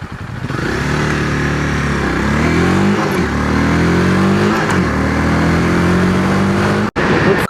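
Honda Rebel 300 motorcycle accelerating hard from 0 to 60, the engine note climbing and dropping through several quick gear shifts, loud and close with no talk.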